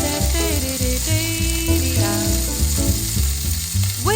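Chicken breasts fry in olive oil in a pan, a steady sizzle that sits under louder music with distinct melodic notes throughout.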